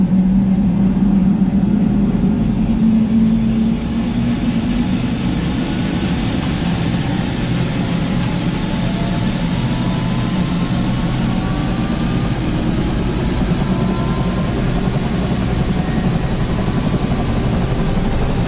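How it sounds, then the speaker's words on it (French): A blue helicopter starts up at the Monaco heliport, its turbine whine rising in pitch while the rotor builds into a loud, steady, throbbing roar close by. "on commence avec le démarrage de l'hélicoptère"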